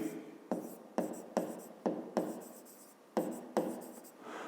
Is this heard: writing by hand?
yes